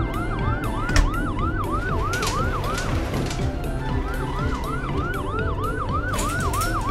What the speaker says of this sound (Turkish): Şimdi sıra ambulansta. Ambulans polis arabasından daha büyük.